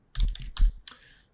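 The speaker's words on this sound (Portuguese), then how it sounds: "Shift Enter para descer uma linha" A few sharp clicks of keys on a computer keyboard, closing with a firmer Shift and Enter press, close and clear with no talk.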